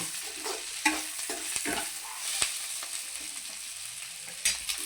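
Drumstick leaves fry and get stirred in a pan, giving a steady low sizzle broken by scattered scraping clicks of the spatula against the metal, close and fairly quiet with no talking.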